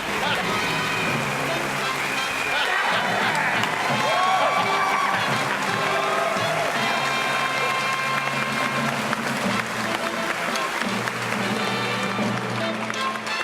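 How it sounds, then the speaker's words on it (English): A studio audience applauds and cheers an award winner at a mock Oscar ceremony, a loud, dense, sustained wash of clapping and whoops that fills the whole stretch, with voices and music-like tones mixed underneath. "Joe, that's a big applause."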